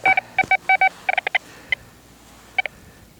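A Quest Q20 metal detector gives a series of short, clean two-tone beeps over a buried target, first in quick clusters and then a few sparse blips, with no voices.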